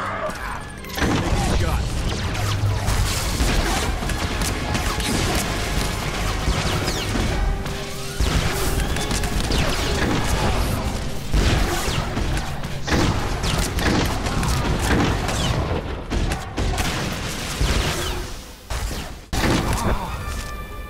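Gunfire and fighting against Imperial soldiers in Star Wars: The Old Republic, loud continuous blaster volleys, impacts and crashes filling the scene, with voices over the combat.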